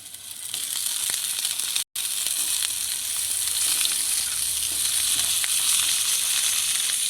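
Eggplant pieces fry in a small amount of oil in a pan, with a loud, dense hiss and crackle. The sizzle breaks off for a moment, then carries on strongly to the end, with no voices.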